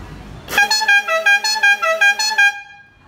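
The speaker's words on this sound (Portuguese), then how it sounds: "A gente arrumou a corneta, a corneta ficou boa, mas a velocidade dela tá baixa." A car horn installed without a relay blares for about two seconds in a thin, wavering tone that pulses unevenly, as if struggling, then cuts off.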